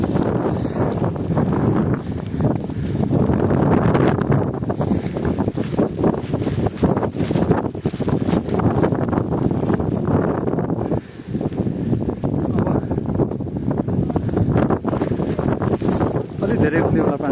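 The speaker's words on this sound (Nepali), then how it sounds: "हावा यस्तो चिसो हावा छ" Cold wind blowing on a mountain trail to Pathivara at around 500 metres, loud gusty buffeting against the microphone, continuous with brief dips, with a voice speaking over it.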